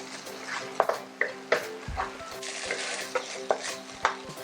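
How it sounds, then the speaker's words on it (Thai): Homemade Thai curry paste simmers with coconut cream in a pan while a utensil stirs it, producing repeated close scrapes and taps over a soft bubbling sizzle. "ผัดให้พริกแกงมีกลิ่นหอมก่อนนะคะ พอพริกแกงเริ่มมีกลิ่นหอมค่ะ ใส่หัวกะทิลงไปเลย ค่อยๆใส่ค่ะ แล้วก็เคี่ยวไปเติมไปนะคะ"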